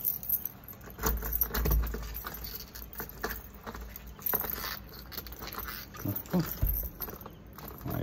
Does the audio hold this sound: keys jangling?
yes